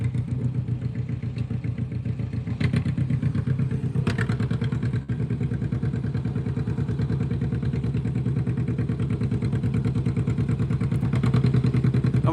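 An antique John Deere G tractor works at a country tractor pull, its engine throbbing in a fast, steady, loud pulse with rattling clatter and occasional thumps, staying close throughout.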